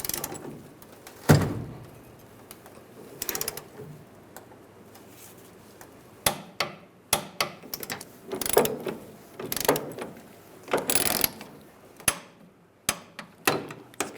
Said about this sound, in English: Now we'll torque these to 30 foot-pounds.